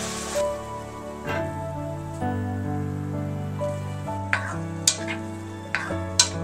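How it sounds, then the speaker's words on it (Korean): Dried vegetables (geonnamul) stir-fry in an oiled pan for a Jeongwol Daeboreum dish: a soft, steady sizzle, with a spatula scraping the pan a few times, nearby and moderately loud over a faint tonal background. "오일 두른 팬에 볶아주시다가 다시마 육수 조금 넣어 뚜껑 덮고 중약불에서 2~3분 부드럽게 익혀주세요."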